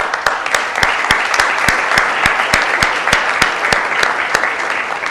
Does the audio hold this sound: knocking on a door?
no